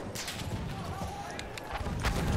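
A horse gallops in the World War I shooter game Battlefield 1, with a steady rhythmic clip-clop of hooves under continuous game noise. Players talk over it.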